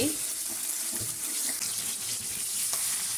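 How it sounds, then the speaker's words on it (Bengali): Pieces of rohu fish hiss and crackle as they go into hot oil in a pan, giving a steady close sizzle with brief louder bursts over three seconds. "তেলটা গরম হয়ে গেছে, মাছগুলা দিয়ে দিচ্ছি, ভেজে নেব"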